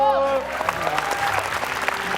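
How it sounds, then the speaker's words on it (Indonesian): Applause from a studio audience on an Indonesian evening talk show, brief and lively, rising under a lingering voice and musical tone at the start, with scattered claps continuing throughout. "tepuk tangan buat Ipul"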